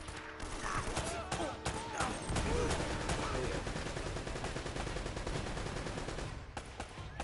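Heavy machine gun fire in Uncharted: Drake's Fortune, dense sustained bursts running almost the whole time amid other battle noise, with voices faintly mixed in.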